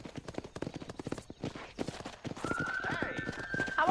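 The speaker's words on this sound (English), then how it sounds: "Control that horse, will you?" In Red Dead Redemption on Xbox 360, a horse gallops with quick, rhythmic hoofbeats, then neighs loudly near the end, with a voice briefly speaking over it.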